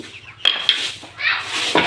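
A few short, sharp clucks from farm-bred chickens sound close by, mixed with rustling and scuffing noises.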